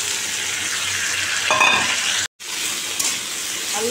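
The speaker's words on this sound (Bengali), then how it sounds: "আলু ভাজা করবো এখন।" Potatoes fry in hot oil with green chillies and five-spice seeds, giving a loud, steady close-up sizzle that cuts out briefly and then resumes.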